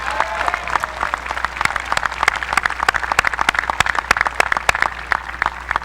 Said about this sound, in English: how about a thunderous Quincy High School round of applause for your parents and loved ones